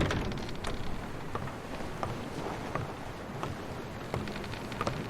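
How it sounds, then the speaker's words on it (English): A motorboat idles on open water in the video game Call of the Sea, a steady low rumbling wash with faint splashes and wind, continuous and fairly quiet throughout. "The motorboat is ready."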